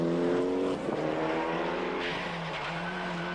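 A Mitsubishi rally car in the 1995 Monte Carlo Rally is driven hard on tarmac, its engine loud and close, with a steady harmonic roar that dips and climbs through gear changes and a brief tyre squeal.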